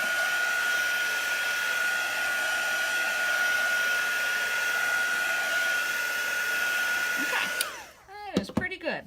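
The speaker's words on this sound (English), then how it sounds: "then we can just finish heating this down here so it gets dry." A handheld heat tool blows steadily to dry chalk paste on a box frame, a loud, even whine with a constant tone that runs for most of the span, then cuts off and leaves a few faint speech-like sounds.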